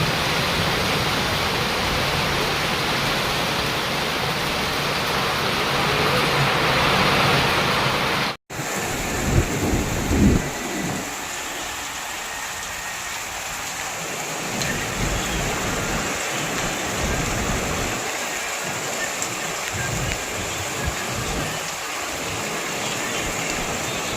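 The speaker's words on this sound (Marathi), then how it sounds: "जुन्नर तालुक्यामध्ये जागजागी पावसाने थैमान घातलेले आहे" Heavy rain pours in Junnar taluka, a loud, dense roar broken by a sudden cut, with deep rumbles of thunder rolling underneath afterward.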